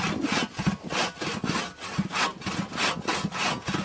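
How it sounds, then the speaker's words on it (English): Bahco Timber Pro Cut hand saw cutting wood outdoors in snowy woods, a close, steady rhythm of rasping back-and-forth strokes, about two a second, heard alone without voices. "Baco Timber Pro Cut. That's the saw."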